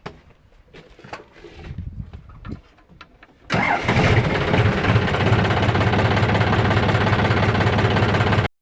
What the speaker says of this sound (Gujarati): હવે આપણે ટ્રેક્ટર લઈ અને જવું છે બર્તન ભરવા